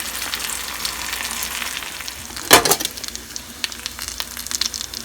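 Steak fries in olive oil and butter in a pan on a stovetop, crackling and sizzling steadily and close, with a sharper burst of spattering near the middle as the pan is tilted and fat is spooned over.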